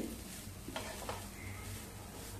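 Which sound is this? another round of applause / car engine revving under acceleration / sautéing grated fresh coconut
sautéing grated fresh coconut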